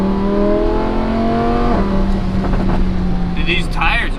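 Straight-piped Lamborghini Huracan V10 exhaust roaring loud and close, holding a steady high-rev drone that shifts pitch partway through, with excited voices under it.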